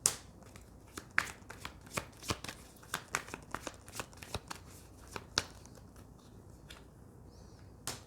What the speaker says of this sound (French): Je vais mettre en place ces cartes.